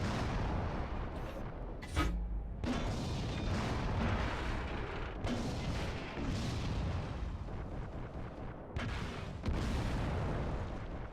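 A tank cannon in World of Tanks Classic fires at a house, giving loud, heavy booms and rumbling blasts that recur every few seconds over a constant roar of battle noise.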